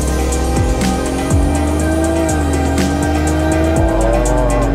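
A 2021 Lexus LS 500h hybrid sedan driven hard in Sport Plus mode, its engine note rising and falling through the gears with rapid shifts and rising revs, heard close and loud from inside the cabin.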